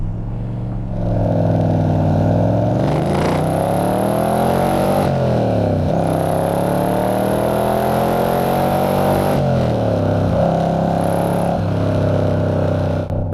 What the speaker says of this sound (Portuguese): agora eu vou fazer outra corrida, só subindo aquela colina, outra corrida em velocidade máxima